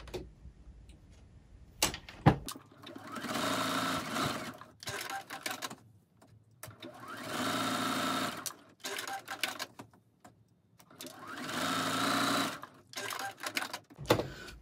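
Sewing machine stitching a quilted zipper pouch, running in several bursts of rapid mechanical whirring separated by short pauses, close and clear.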